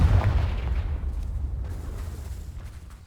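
A fiery blast from the Confringo explosive curse in Hogwarts Legacy, cast at dry vines: one loud booming burst at the start that rumbles and fades over about three seconds, with no talk.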